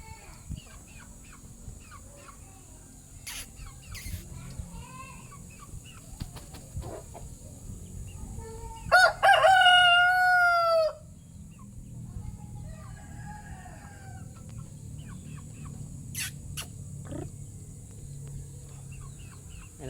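A rooster crows loudly once midway, with soft clucking of hens and chicks and scattered bird calls over a low background hum.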